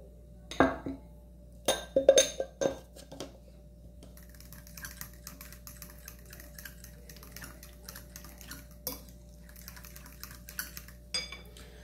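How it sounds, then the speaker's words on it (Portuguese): An egg is beaten with a fork in a bowl, heard as a few sharp clinks and taps at first, then quicker, softer rhythmic clicking and scraping, close and quiet, with no talking. "Eu vou misturar com um garfo mesmo"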